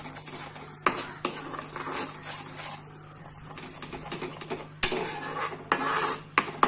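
Homemade pizza sauce with salt added is stirred in a pan on the stove, producing repeated scraping and clinking strokes of a utensil against the pan over a faint sizzle, close and without speech.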